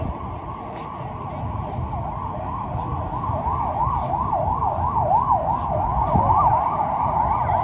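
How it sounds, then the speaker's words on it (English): Wailing siren from an emergency vehicle rises and falls steadily, moderately distant, over outdoor city ambience and breeze on Lycabettus Hill in Athens at midday. "Here's sirens somewhere in the distance."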